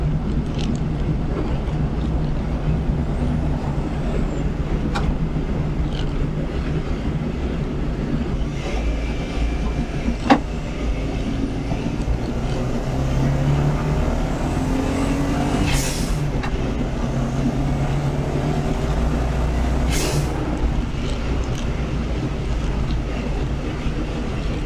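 A Ford Anglia car is driven on the road, its engine droning steadily with road and wind noise for the whole stretch, marked by a few brief clicks and rattles.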